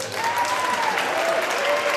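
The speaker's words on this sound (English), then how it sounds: "Round of applause." Comedy show audience applauding at a Filipino stand-up set, a steady dense wash of clapping filling the whole stretch at even loudness, with a faint tonal whistle or hum riding above it.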